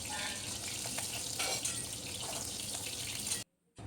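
Cauliflower florets frying lightly in hot oil give a steady, dense sizzling hiss that stays loud and even throughout, then cuts off abruptly near the end.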